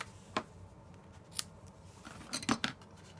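Scissors trimming paper for a handmade craft box, a few quiet, separate snips, with one near 0.4 s and a short cluster of crisper cuts toward the end, over faint room noise.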